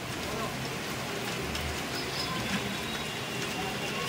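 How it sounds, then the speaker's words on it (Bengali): Light morning rain falls steadily, making an even, soft hiss with no clear pauses or individual drops standing out. "খুব জোরে না, তবে হয়ে যাচ্ছে, ভালোই মোটামুটি বৃষ্টি হচ্ছে"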